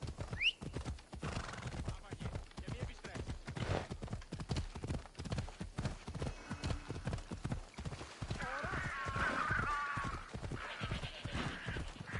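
Hooves of a horse gallop in a steady clip-clop rhythm through the Odyssey video game, with a whinny near the start. Talk runs over the hoofbeats, and a brighter layered game sound swells toward the end.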